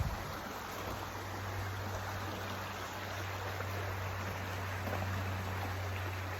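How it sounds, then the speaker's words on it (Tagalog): A river stream near Bridal Veil Falls in New Zealand flows in a steady, soft rushing wash, faint and constant with no voices over it. "May water stream, nakakatawa."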